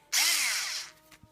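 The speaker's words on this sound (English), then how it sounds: "Electric screwdriver, this is good, this." Handheld electric screwdriver spins up in one short, close, whirring burst of under a second, then winds down to a faint clatter.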